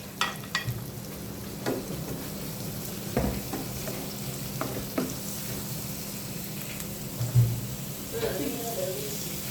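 Turmeric being stirred into a dish frying in a pan, steady sizzle with irregular scraping and clinking strokes, close, a voice talking intermittently over it.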